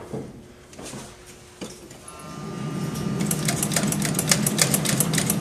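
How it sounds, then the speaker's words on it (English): A small engine, run dry with no gas in the float bowl, cranks for a couple of seconds and then catches, settling into a steady, rapid mechanical clatter that grows louder and continues to the end. "it's gonna take a second of cranking to get it fired up"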